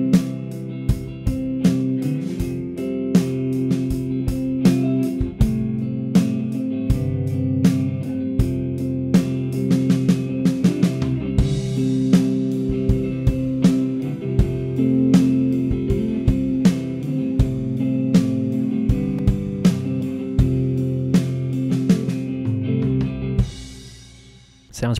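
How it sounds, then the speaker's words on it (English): Three layered guitars over a MIDI drum track from a software instrument, blended with room reverb into a steady, full arrangement with regular drum hits throughout and no talking. "all I have right here is three guitar layers and a drum layer"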